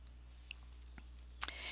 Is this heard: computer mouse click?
yes